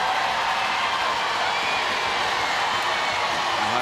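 Home crowd at a 2010 ANZ Championship netball match between the Swifts and the Magic, reacting unhappily to an umpire's call, a steady broad roar of many voices filling the arena throughout.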